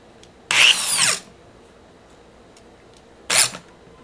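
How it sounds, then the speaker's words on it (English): A power drill bores into wood in two bursts, the first about half a second long and the second shorter, with quiet pauses between them and no talking. "hopefully I've got the right bit in my drill"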